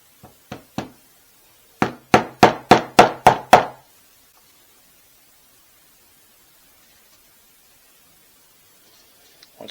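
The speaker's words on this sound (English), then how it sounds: "we're going to use a flathead hammer to press that in flush" Sharp flathead-hammer taps on metal, pressing a filter flush into a fuel injector: three quick knocks, a pause, then a rapid run of about six more, followed by silence.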